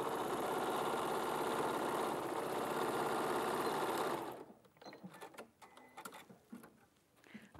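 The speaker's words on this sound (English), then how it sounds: "I will just be sewing now to the top seam." A sewing machine stitching the top seam of a denim lining runs loud and steady with a continuous whirring drone for about four seconds, then stops, leaving quiet scattered handling clicks.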